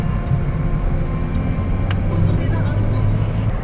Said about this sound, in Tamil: நிறைய வாகனம் இங்கே பாருங்கள் டிராஃபிக் ஜாம் ஆகிற அளவுக்கு இங்கே வந்து வாகனங்களாக இருக்குது